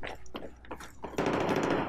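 Machine gun fire in Battlefield 4, a few sharp separated shots followed by a dense sustained burst of rapid fire at the end, fairly quiet overall.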